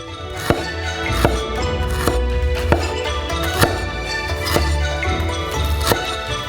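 A knife slices fresh ginger into thin pieces on a cutting board, sharp regular strikes about every half second over a faint background hum.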